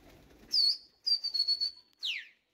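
A sharp human whistle rings out, followed by a string of quick chirping pulses and a falling whistle as an army pigeon responds, with no talk.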